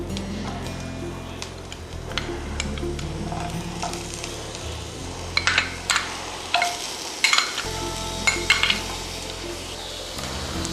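Chopped garlic and onion frying in a pan for millet soup, a steady close sizzle with scattered sharp clinks of a spoon stirring against the pan.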